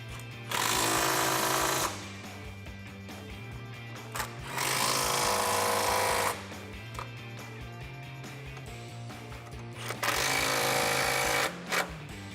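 Air impact tool bursts tightening 13mm nuts on the strut top of a 2011-2019 Dodge Challenger R/T during a lowering spring install: three loud, sustained rattling bursts of about two seconds each, separated by pauses over a steady background hum.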